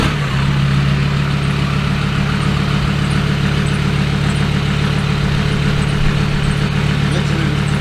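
A 270hp Vauxhall Corsa B with a B204 engine runs loud and close, a steady droning idle with a deep low hum throughout.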